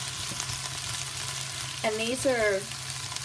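Diced potato chunks frying in a pan on medium heat for crispy hash browns, a steady broadband sizzle running throughout, with a person briefly speaking near the end over the frying.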